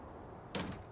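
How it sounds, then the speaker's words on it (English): Dome airlock door closing on a Mars terraforming map in Farming Simulator 19, a single short faint thud-and-rattle of the door shutting against quiet background hum. "Then close the door."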